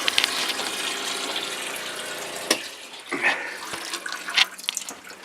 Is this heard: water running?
yes